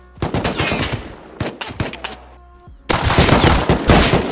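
Gunfire in the video game Rust crackles in rapid automatic bursts, with a few separate shots, a short lull, then a long, dense volley of loud close shots.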